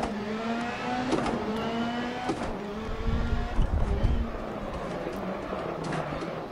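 A Volkswagen rally car engine in the game DiRT Rally played in VR, a rising and falling whine through gear changes with a rougher rumbling surge midway, steady and close, no talk.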